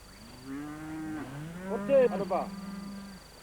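A cow grazing in mountain gorilla habitat where local herders keep cattle gives one long, drawn-out moo, moderately close, over a quiet, faintly hissing background.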